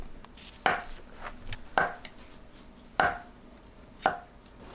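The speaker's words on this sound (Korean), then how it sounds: "씻은 두부는 1cm 두께로 썰어주세요." A knife cuts through a block of washed tofu into 1 cm slices, landing four sharp, evenly spaced chops on a cutting board, close and fairly quiet with no talking.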